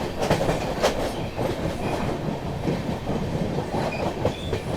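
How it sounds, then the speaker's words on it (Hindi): Mahabodhi Express train rolling slowly through Ghaziabad Junction, a steady rumble of carriages with repeated clickety-clack wheel beats over rail joints, loud and close throughout with no voices. "ट्रेन अपनी जो है गाजियाबाद जंक्शन स्किप करने जा रही है।"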